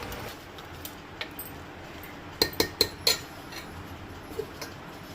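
A spoon mixes Goan-style khatkhate ingredients with chillies in a cooking pot, giving a few quiet, sharp metallic clinks and taps in a close cluster against low background noise.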